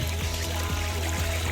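Water stream flowing through a rocky wadi in the morning, heard as a constant close rushing and pouring with a low rumble underneath.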